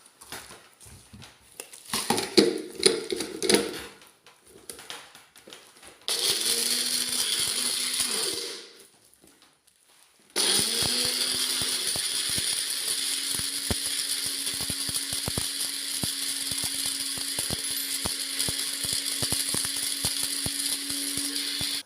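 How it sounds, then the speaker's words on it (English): Kitchen blender grinding whole cloves to make clove oil, a loud steady motor whir that starts, pauses briefly, then runs continuously to the end, with some handling clatter at the start. "I'm going to cover it and blend"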